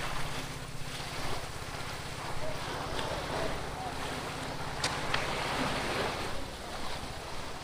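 Choppy sea waves slap against a small boat during island hopping off Romblon, a steady broad wash with low engine-like rumble and wind buffeting the microphone, continuous throughout with no talk.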